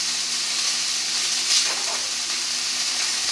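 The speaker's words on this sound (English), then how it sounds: "You hear that sizzle?" Sirloin steak laid into a dry, unoiled frying pan gives a steady broadband sizzle, close and continuous, with a slight hiss swell midway and no talking.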